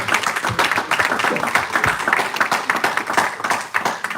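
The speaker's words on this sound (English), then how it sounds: "Let's give a round of applause for that" A small audience at a book launch panel claps in appreciation. Distinct individual hand claps stand out within the uneven, fairly close applause, with no talking.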